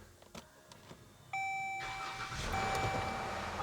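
A 2014 Dodge Journey's 3.6 engine cranks and fires up after a starter replacement. A steady electronic warning chime sounds first, then the engine catches and settles into a close, continuous running rumble.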